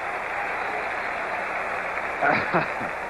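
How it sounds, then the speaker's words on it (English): Steady crowd applause fills a 1977 NFL stadium as Franco Harris of the Steelers comes out against the Cowboys, a broad continuous roar of clapping with a brief voice rising over it near the end. "Franco Harris comes out to the acclaim of the crowd"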